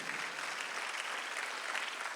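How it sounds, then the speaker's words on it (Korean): A church congregation claps steadily during a Sunday worship service, a dense, even wash of many hands with no break or change in strength. "박수를 치며 하나님께 올리시라"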